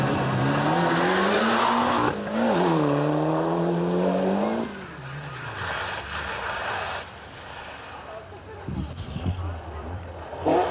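A Ford Escort Cosworth rally car at the stage finish line of the 1993 Townparks Rally screams past at high revs, its engine note rising and falling before fading as a commentator speaks.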